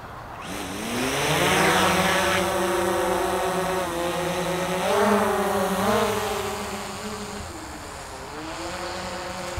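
A small camera drone lifts off from a landing pad, its whining rotors rising and bending in pitch as the craft climbs and maneuvers, loud and close before gradually easing.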